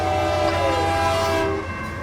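A man imitates a freight train whistle with his voice, a loud sustained horn-like tone held for about a second and a half, then trailing off into quieter room sound.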